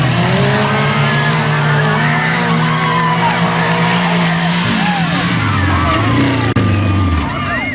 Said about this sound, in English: residents from Emerson and the surrounding area have gathered to race rototillers on this field